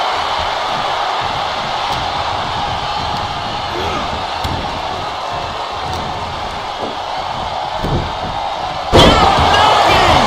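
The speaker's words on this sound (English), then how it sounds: "From the middle rope. Oh, what a splash." A wrestler's splash from the middle rope crashes onto the ring in a WWE match, a loud slam late in the clip above a steady roar of arena crowd noise.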